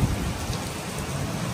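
Heavy rain pours down during a rainstorm, a dense, steady hiss of drops striking surfaces with a deep low rumble underneath. It is continuous and close, with no voices.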